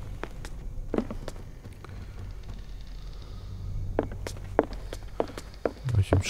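Footsteps thud across a floor in the video game Call of Cthulhu, a series of irregular steps with a low ambient drone beneath, the steps growing heavier and closer toward the end.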